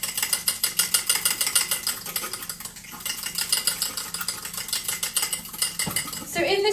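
A fork whisks water in a cup for a vegan tofu scramble, rapid rhythmic metallic clinking against the cup sustained throughout, close and fairly loud, ending with a few scraping knocks.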